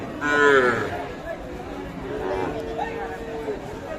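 At a livestock market selling Sahiwal bulls and young calves, cattle give a loud nearby moo followed by several quieter, drawn-out lows, with a murmur of crowd chatter underneath.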